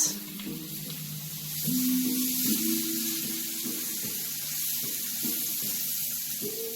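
Garlic sautéing in a pan for an omelet, a steady close sizzle and hiss with scattered clinks of a utensil against the pan, no talking.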